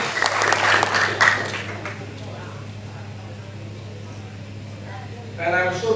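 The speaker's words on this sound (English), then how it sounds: "Let us all give a big round of applause to all our leaders and members." Brief audience applause at a hospital event for leaders and members, a loud burst of clapping in the opening second or two that quickly dies away over a steady low hum, before a voice starts speaking near the end.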